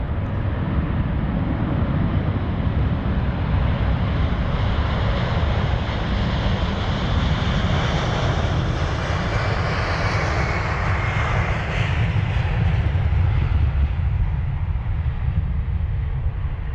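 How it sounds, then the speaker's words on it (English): A 24-year-old Delta Boeing 767-400 on flight DL31 to Atlanta, taking off at full throttle from London Heathrow; a loud, sustained jet engine roar with a shifting whine, continuous and close, with no talking. "that 767 full throttle out of London Heathrow. In those engines, they were, wow, so loud."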